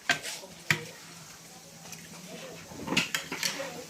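Food being stirred in a frying pan, with a soft steady sizzle broken by a few sharp scrapes and clinks of the utensil against the pan, and no talk.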